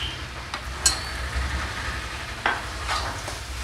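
Curry leaves go into a hot frying pan with a faint sizzle, with a few soft clinks and stirring scrapes over a low hum.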